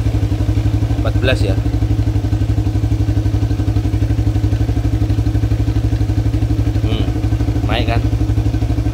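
Aracer mini X ECU-equipped motorcycle engine running at a steady, loud idle for the whole stretch, its rhythmic chug rising slightly, with someone speaking briefly over it.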